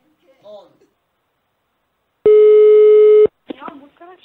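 A single steady telephone ring tone of about one second plays during a prank call, with short bits of voices speaking before and after it.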